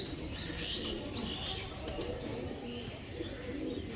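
Andhra Star Kalanka pigeons murmur a soft, low cooing under a constant noisy background, with scattered faint chirps and a light wing flutter.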